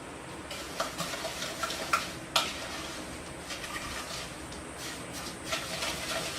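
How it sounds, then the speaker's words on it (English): Brownie batter with oil being mixed together in a bowl, a steady soft scraping and stirring texture with a few sharper clinks of the utensil against the bowl, close and fairly quiet, no talking. "so I mix that together"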